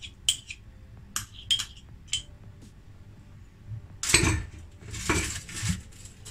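A utensil mixes gelatin in a bowl, with several light clinks and taps against the bowl, then a louder clattering scrape of stirring near the end.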